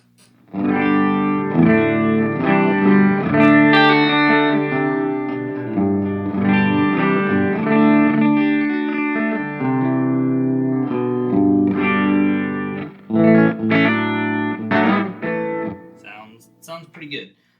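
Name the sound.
electric guitar with doubler effect on KMA Machines Endgame pedal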